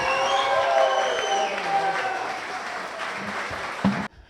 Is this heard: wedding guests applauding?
yes